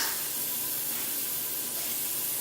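Grapeseed oil misted from a pump sprayer onto a cooking pan, a single continuous hiss lasting a couple of seconds, close and fairly loud.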